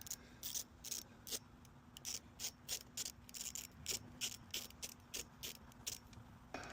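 A ratchet tightens a 10 mm bolt on a motorcycle lever, a CRF, with short rapid bursts of clicking pawl strokes. The bursts repeat about a dozen times in an even rhythm, close up and crisp against a quiet background.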